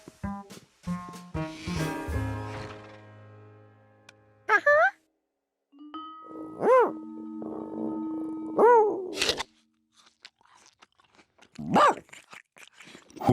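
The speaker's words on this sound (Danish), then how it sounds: "Peter spiste et nasset æble i foyeren" A cartoon character loudly crunches and chews an apple in a foyer, with several sharp bites and chewing sounds among bright musical tones and short cartoon effects.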